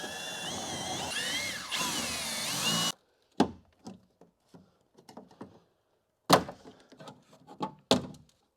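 Power drill boring out rivets on a Toyota Corolla front door panel: a loud sustained whine for about three seconds, then a string of short clicks, taps and metallic clatters of loosened pieces.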